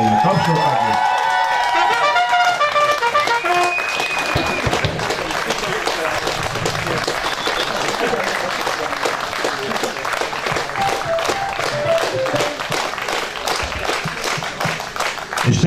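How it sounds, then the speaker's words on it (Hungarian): Audience applause at a big band festival concert: sustained, dense clapping from a large crowd that carries steadily throughout, with faint music tones fading out at the start. "Még egy tapsokat!"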